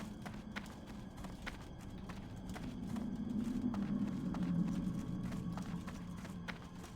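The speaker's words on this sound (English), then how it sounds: "There's that horse, that Queen Spirit" Horse hooves in World of Warcraft Classic, in the Dire Maul West dungeon, a steady rhythmic clip-clop of galloping hoofbeats at moderate volume with a low rumble beneath and soft game sounds around it.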